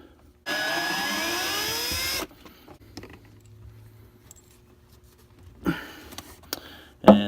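A power drill fitted with a long Phillips bit backs out the mounting screws on a camper's water pump. One loud whirring burst runs for nearly two seconds, followed by quieter handling noises and a couple of sharp clicks near the end.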